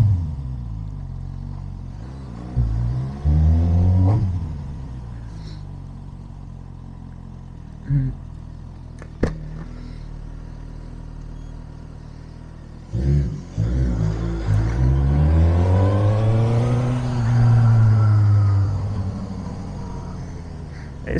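A motorcycle on a test ride revs and accelerates repeatedly, its engine note climbing and falling in loud, close sweeps with quieter idling stretches between.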